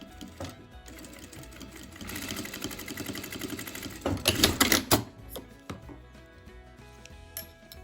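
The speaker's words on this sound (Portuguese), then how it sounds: "nós vamos passar uma costurinha aqui na beiradinha" A sewing machine runs a quick stitching pass along the folded edge of a bias-cut fabric strip for a coin purse, its rapid mechanical chatter steady and close, swelling louder near the end before stopping, with no talk.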